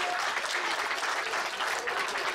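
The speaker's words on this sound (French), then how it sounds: "maximum d'applaudissements, s'il vous plaît" Audience at a marbles championship in Crouy, France, applauding the winner of the middle-school main final, steady moderately loud clapping with no speech.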